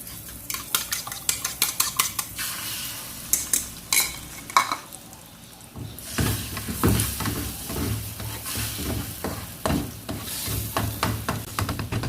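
Egg frying in butter in a pan for fried rice: first a run of sharp utensil clinks and scrapes against the pan, then a dense, loud sizzle with ongoing scraping for the rest of the clip.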